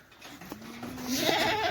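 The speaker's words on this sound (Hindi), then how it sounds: "ये है बकरी, हमारा भेड़ और बकरी दोनों ही मिक्स" A goat on a Saudi Arabian farm, kept in a mixed herd with sheep, gives one drawn-out nasal bleat that rises and wavers for over a second, loud and close against a faint outdoor background.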